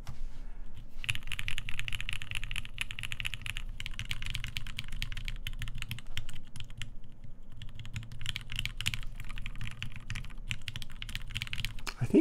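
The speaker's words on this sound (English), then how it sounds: "Maybe this Jane V2 is a really good board. I haven't been typing this fast in a while." Typing on a TGR Jane V2 mechanical keyboard with lubed Tealios switches, a fast, dense run of close, crisp keystroke clacks with only brief pauses, no talking.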